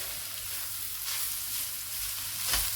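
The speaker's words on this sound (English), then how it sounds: "Carry on frying it." Minced pork sizzles and crackles steadily in a hot pan, a soft continuous fry with a slight stirring scrape near the end.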